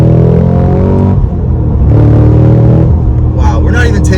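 A 2022 Cadillac CT5-V Blackwing accelerating hard in a long second gear: a loud, deep engine roar with rising harmonics close in the cabin, a brief dip midway, and a voice exclaiming near the end.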